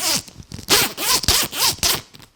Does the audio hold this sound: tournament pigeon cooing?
no